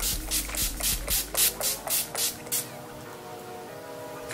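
A quick series of about a dozen short, close spritzes from a pump bottle of oil control makeup setting spray, evenly spaced, then quiet.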